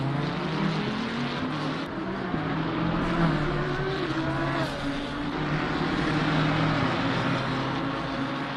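Race cars in a sim racing game on the Circuit of the Americas track, one car overtaking another, with a steady, continuous engine drone holding at full strength throughout and no talk over it.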